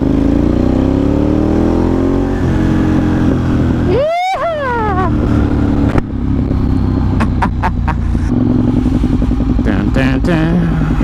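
A Ducati motorcycle setting off on a pizza delivery, its engine running steadily and loud throughout, with a sharp rising rev burst midway and brief gear-shift blips after, close to the rider.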